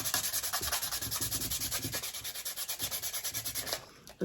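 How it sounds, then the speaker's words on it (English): A thrifted, aged item with greasy grime gets scrubbed in quick, even back-and-forth strokes, a rhythmic rasping rub repeating steadily and close by until it stops just before the end. "I feel like I could scrub this some more"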